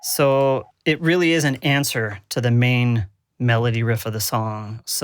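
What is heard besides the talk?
No everyday noise stands out behind the speech.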